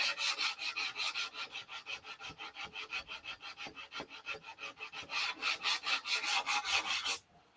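Brush strokes laying dope onto the wings of a P-47 model aircraft, a quick, even rhythm of close rubbing swipes that carries on steadily before stopping abruptly.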